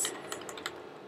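Arrow keys pressed on a computer keyboard, three or four soft, quick clicks in about a second, close but quiet over a faint background hiss.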